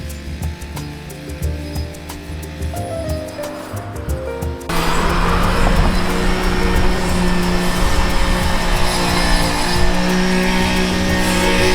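Steady traffic roaring past on a busy national road in Japan, with cars and trucks whooshing by continuously and nearby, the rumble growing louder and denser midway through, no talk.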